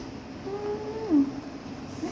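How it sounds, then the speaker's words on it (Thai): A doctor's cat in a home gives a single short, fairly faint meow with a falling pitch, partway through the clip over quiet room noise. "นี่แมวแมว"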